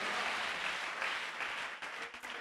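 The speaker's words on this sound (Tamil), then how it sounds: "என்ன விசுவாச கைத்தட்டு" A church congregation claps its hands together in a dense, continuous wash of applause that stays strong and then thins slightly toward the end, with no talking over it.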